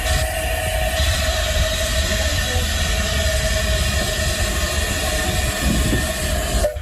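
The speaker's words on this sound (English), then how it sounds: "It's the only visit that the Thomas steam train is making to a heritage railway" A Thomas the Tank Engine steam train rumbles past close by on a heritage railway in southwest England, a steady, unbroken roar with a faint metallic whine over the deep rolling noise.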